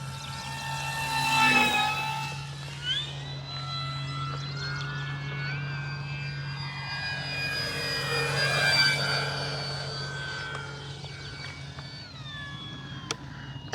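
An E-flite F4U-4 Corsair electric RC plane flies overhead, its whining motor rising and falling as it passes at moderate distance, fairly faint over a steady background hum.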